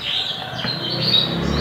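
A wild sogok ontong bird calls near caged canaries, giving a steady run of high, thin chirps and trills that carry on without pause, fairly close and clear.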